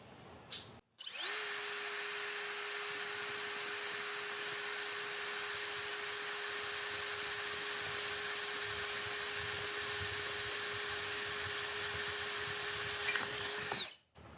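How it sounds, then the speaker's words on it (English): A Ridgid 18V subcompact brushless hammer drill with a brand new bit bores through hickory wood at speed 1, a steady high whine holding evenly for about thirteen seconds before cutting off, close and alone. "We're just going to see how long it takes for it to go through the wood with a brand new bit."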